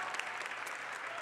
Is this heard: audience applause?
yes